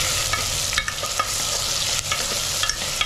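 Onion, tomato and drumsticks with turmeric are stirred in a pan, a continuous bright frying sizzle with light, regular scraping strokes of a spoon, close and steady, with no voices.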